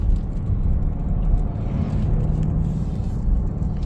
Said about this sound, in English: Third gear now, see the revs go up? Fourth gear.